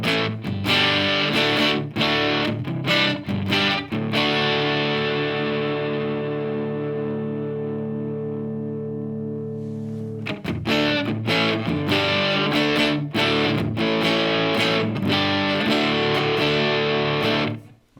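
Electric guitar played through a Strymon Iridium amp and cab simulator with a JOYO Vox AC-tone pedal, giving a loud, overdriven tone of strummed chords and sustained ringing notes, with a long held chord in the middle before the strumming picks up again.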